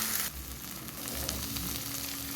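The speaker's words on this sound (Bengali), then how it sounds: "এটাকে একটু লাল লাল করে ভাজবো" Onion frying in hot oil with ginger and garlic paste for palak paneer, a steady close sizzle with crackling that swells after a brief start and runs on without talk.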